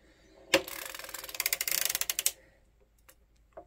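A hand-cranked circular sock knitting machine gives a loud clattering run of rapid ratcheting clicks lasting about two seconds, then falls silent apart from a couple of isolated faint clicks.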